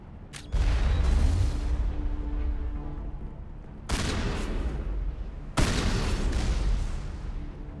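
Grenade blasts in Mass Effect Legendary Edition: three loud, broad booms spaced a few seconds apart, each with a long rumbling decay, heard alone without talk.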